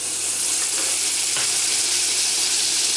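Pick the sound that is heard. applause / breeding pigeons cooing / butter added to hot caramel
butter added to hot caramel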